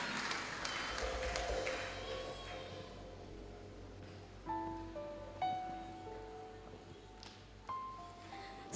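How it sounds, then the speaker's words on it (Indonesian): Church congregation applauding at a Christmas Eve service, a broad wash of clapping that is strongest in the first few seconds and then thins and fades, with soft tonal music notes rising over it. "Kita berikan tepuk tangan untuk liturgi dari wilayah Binjai dan sekitarnya."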